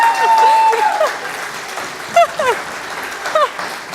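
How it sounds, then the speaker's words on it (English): Congregation applause fills a Unitarian Universalist fellowship sermon: steady, moderately loud clapping runs throughout, with some voices and a few sharp chirping sounds mixed in. "I'll accept your applause"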